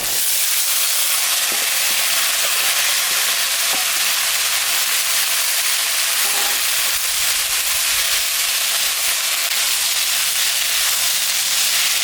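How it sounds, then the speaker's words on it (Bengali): Chopped figs frying with onion and spices in hot oil, a steady, dense sizzle throughout with occasional faint stirring clicks. "এখন আমি ডুমুরটা দিয়ে দেব।"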